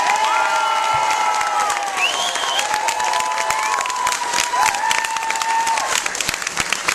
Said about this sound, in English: a big round of applause for our cast of Animosity